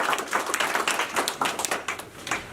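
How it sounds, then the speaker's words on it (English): A moderate crowd claps steadily in a room at a pitch competition event, an even patter of applause sustained for a couple of seconds. "could we give them a round of applause?"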